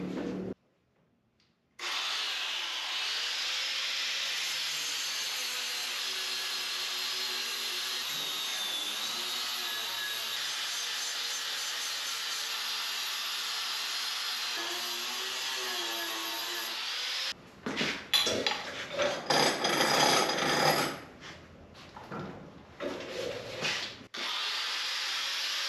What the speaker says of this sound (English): Let's start grinding.